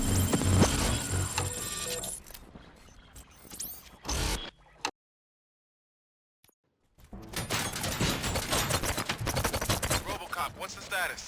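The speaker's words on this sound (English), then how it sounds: "Gunshots? What's going on?" Gunfire in the Robocop Rogue City video game comes as rapid, dense bursts of shots mixed with game sounds and voices. A brief dead-silent gap sits near the middle, then heavy firing resumes.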